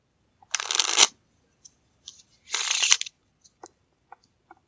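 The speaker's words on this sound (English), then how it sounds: "Going through, standard riffle shuffle." Two quick riffle shuffles of a Bicycle Cyclist playing card deck, each a dense fluttering burst of about half a second, followed by soft taps as the deck is squared.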